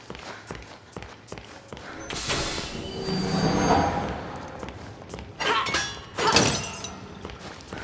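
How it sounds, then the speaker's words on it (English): A train pulls away from a station in a video game, a rising rumble and clatter of cars with clunks and metallic rattles building in the middle and a couple of louder bangs near the end, with no voices over it. "I missed the train."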